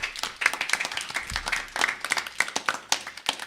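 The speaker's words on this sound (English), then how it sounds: "Give him a round of applause." A round of applause for a guest at a Sunday church celebration, individual claps clearly audible in a lively, uneven patter from a modest crowd, fairly close.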